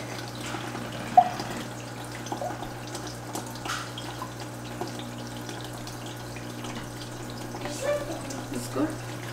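Water runs from the tap of an eSpring UV water purifier in a steady, gentle flow, with a few faint drips and small clicks over a constant low hum.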